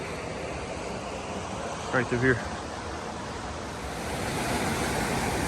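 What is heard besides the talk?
creek water flowing in Pisgah National Forest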